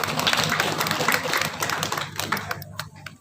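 Audience applause at a halal bihalal gathering of a transmigrant community association, dense clapping filling the room and tapering off near the end.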